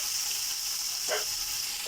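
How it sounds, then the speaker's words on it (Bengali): Small morola fish frying in hot oil give a steady, close hiss, with a couple of brief louder spits breaking through the even sizzle. "ভাজা চলছে।"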